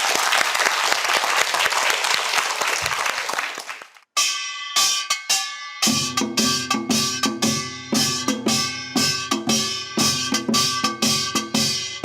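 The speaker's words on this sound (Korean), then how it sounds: "박수를 청해 보겠습니다" Loud applause from a TV quiz show studio audience for about four seconds, then it stops abruptly and sharp metallic samulnori percussion strikes begin.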